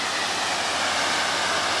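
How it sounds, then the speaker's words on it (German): A river in India rushing steadily as a dense, even broadband roar, continuous and fairly loud with no voices over it. "Und hier ist der Fluss."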